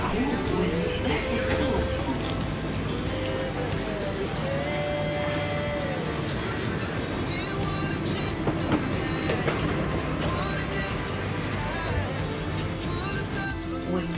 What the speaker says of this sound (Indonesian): Keretanya sudah datang, sekitar setiap 10 menit keretanya akan datang.